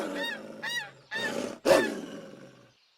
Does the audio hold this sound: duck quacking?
yes